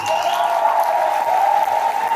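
An audience applauds at a live program event, dense continuous clapping from a crowd, loud and steady throughout with no speech over it.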